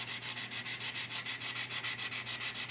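Putty on the hull of a Hobby Boss 1/350 Oscar SSGN model submarine is sanded with quick, even back-and-forth strokes. About five rasping passes per second sound soft and close, with no talking.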